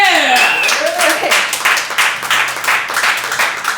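Live podcast show audience bursting into applause and cheering, dense crowd clapping that rises quickly and stays loud, with a voice calling out at the start.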